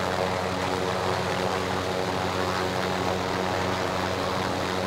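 An aircraft engine in the video game Warzone drones loudly and continuously, a dense, steady roar with a low propeller-like hum and no breaks.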